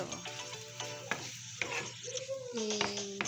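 Dove meat frying in a pan for a kabsa rice dish, browned until it turned black: a continuous sizzle with stirring scrapes and occasional utensil clinks, close and moderately loud, with some tonal kitchen noise mixed in.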